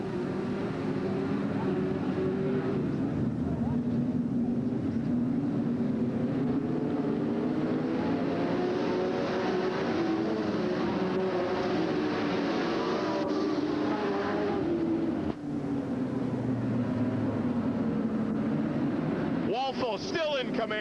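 Race cars circle a speedway as the field is put in motion for a green flag, a continuous engine drone that swells and fades as the pack passes, with a commentator talking over it throughout.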